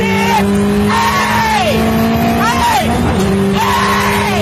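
A Ferrari 360 with a gated manual conversion revs loudly and repeatedly, pitch climbing and dropping with each gear change, close and sustained.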